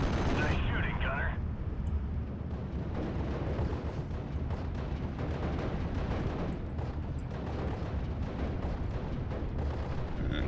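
Howitzer artillery barrages in the WWII strategy game Steel Division Normandy, a dense continuous rumble of booming shots and blasts layered loudly throughout, with a voice talking over the battle.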